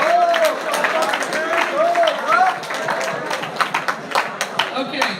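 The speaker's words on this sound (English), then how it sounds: "let's give the freshmen a big round of applause" A high school underclassman awards audience applauds the freshmen: a voice at first, then scattered, sparse hand claps build from the crowd in a modest indoor room.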